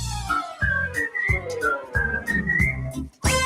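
A melodic tune whistled up close, short phrases gliding up and down over a rhythmic accompaniment that drops out briefly between phrases.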